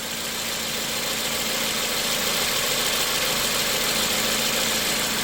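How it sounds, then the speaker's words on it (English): A car engine idles steadily up close after its mass air flow sensor has been cleaned and fitted with an aftermarket part, giving an even, continuous hum without any voices over it. "I will say this engine purrs like a kitten."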